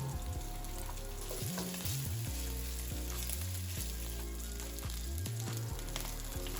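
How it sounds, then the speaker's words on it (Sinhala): Marinated chicken pieces fry in oil in a pan, giving a steady close sizzle that runs throughout under background music with no talking. "මුලින්ම පෑන් එකට තෙල් ටිකක් දාලා අර කලින් මැරිනේට් කරගත්ත චිකන් ටික ඒ තෙල් එකේ දාලා හොඳට බැද ගන්නවා."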